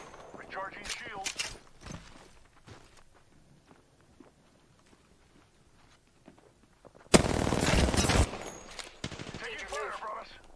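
Gunfire in the shooter game Apex Legends, with scattered single shots and short bursts early, then a loud, dense burst of automatic fire near the end amid game sound effects.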